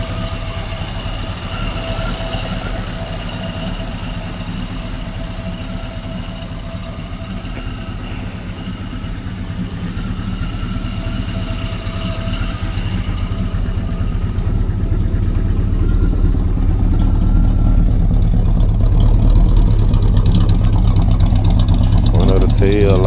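A Chevrolet El Camino's engine runs steadily with a low, continuous rumble that grows louder toward the end, with people talking over it.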